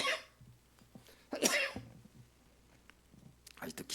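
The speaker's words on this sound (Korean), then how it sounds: "아직도 기침이 나와가지고요." A few coughs from a person nearby, sharp bursts separated by pauses, with a little speech around them.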